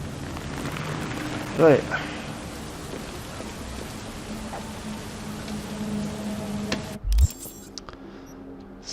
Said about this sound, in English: So you're seeing a lot of rain in this this part of the game.